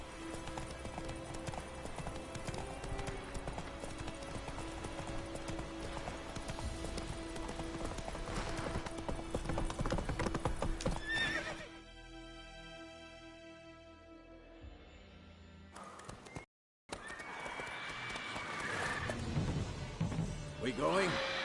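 Roach, a horse in the video game The Witcher 3, gallops with rapid rhythmic clip-clops under game music and spoken dialogue, the hoofbeats fading midway before returning with louder action.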